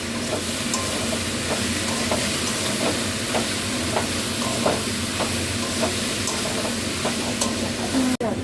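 Grated coconut and salt are stirred in a pan, a steady faint sizzle-hiss with regular scraping strokes roughly every half second, close by, ending in a sharp clunk.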